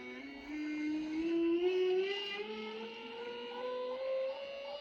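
A motorized Walter RTS-500G 20-inch rotary tilting table spins up under its controller, a faint motor whine rising steadily in pitch over a few seconds, alone and close.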